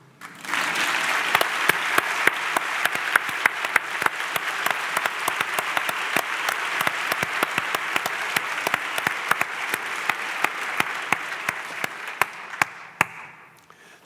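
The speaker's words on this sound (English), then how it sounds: "I would ask all the women in this room to applaud the men" Women in a conference audience applaud the men present, sustained, full clapping that rises quickly, holds steady for over ten seconds, then fades near the end, with no speech over it.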